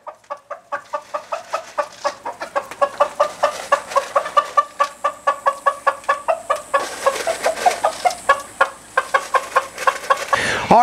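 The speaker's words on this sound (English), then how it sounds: "Chickens should be nice and happy." Chickens clucking in a steady, rapid series of short calls, close by and fairly loud, with no talking.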